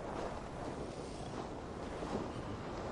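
Steady, broad whooshing wind in the video game Assassin's Creed Valhalla, with a low rumble, constant and unbroken throughout.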